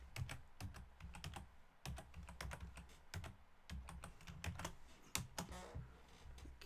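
A password is typed on a computer keyboard as a quick run of light, close key clicks in uneven bursts, some keystrokes heavier, with no voices.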